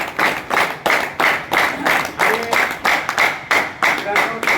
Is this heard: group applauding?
yes